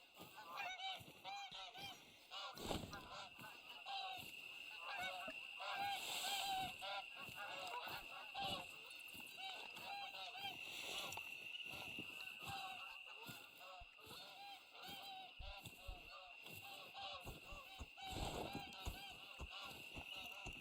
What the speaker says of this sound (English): It's the sound of geese coming down.